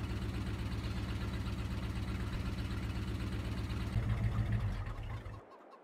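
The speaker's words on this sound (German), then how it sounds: "Also dieser V8-Klang ist schon richtig schön." A small V8 tractor idles in Farming Simulator 22, a steady low rumble with a regular pulsing beat, loud and close, swelling slightly near the end before cutting off abruptly.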